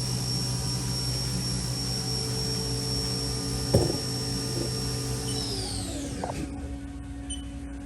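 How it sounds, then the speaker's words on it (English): A 2008 Haas VF1 CNC vertical machining center spindle spins at its 7,500 RPM top speed with a steady high whine over a constant hum and one brief knock. Near the end the pitch falls away as it spins down. "the preceding video was a Haas CNC Vertical Machining Center. It's a model VF1."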